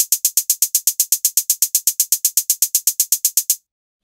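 Electronic drum sequence programmed in Ableton with no swing: a rapid, perfectly even run of bright hi-hat-like ticks at a steady sixteenth-note pulse, loud and alone, stopping abruptly after about three and a half seconds.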